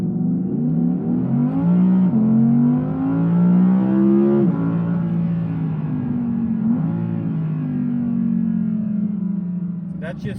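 A 2021 Audi R8 V10 Performance launches hard from a standstill, its engine note climbing in a loud rising wail through a gear change and continuing to pull strongly.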